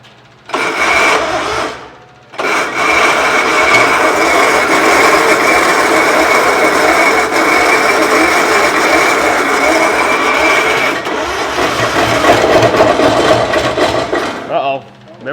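A three-engine pulling tractor cranks over on its starter, a loud, steady mechanical churning that runs for most of the stretch with only brief pauses, close by.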